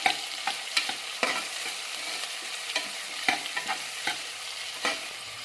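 Potatoes and vegetables stirred into hot oil in a pressure cooker for vegetable pulao, a steady sizzle with repeated scraping knocks of the spoon against the pot, no talking.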